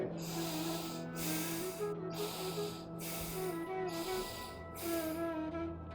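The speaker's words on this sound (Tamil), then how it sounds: "மெதுவாக மூச்சை உள்ளெழுத்து மிக மெதுவாக மூச்சு வெளிய" Slow, deep nasal breaths during a yoga exercise, drawn in and let out in long steady waves of airy rushing, close and clear. A soft tonal drone hums beneath them and no one speaks.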